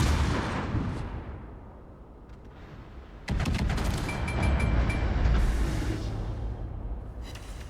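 In a World of Warships match, battleship Missouri's big guns boom as a sudden heavy, rumbling salvo. Deep, rolling concussions follow, with the ship's engine drone underneath.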